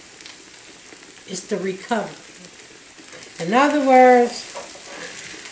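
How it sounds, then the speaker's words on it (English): Corn frying in a pan gives a steady sizzling hiss throughout, with someone talking over it in two short bursts. "I'm frying this corn."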